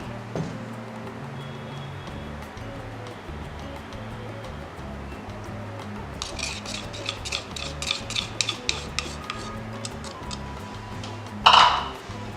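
A homemade skin care mixture stirred in a bowl, with a utensil clinking and scraping against the sides in a quick, close run of taps that ends in a brief louder knock.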